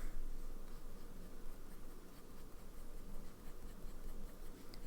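Fine-nibbed fountain pen scribbling steadily on paper, a continuous close scratchy rasp with quick strokes and no pauses, alone at low level.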